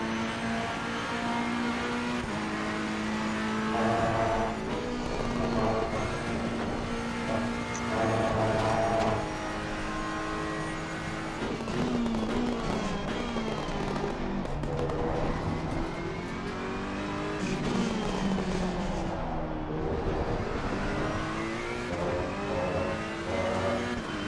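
A Ferrari race car engine in a racing video game roars steadily throughout, climbing and dropping in pitch through repeated gear changes as it accelerates and brakes, loud and continuous.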